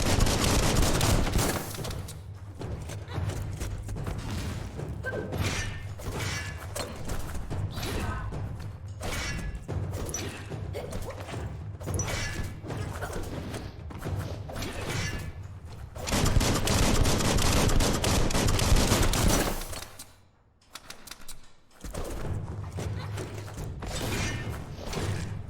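Rapid gunfire bursts from the Biomutant video game, dense and loud, running almost continuously through a busy battle mix with heavy low rumble, breaking off briefly near the end before resuming.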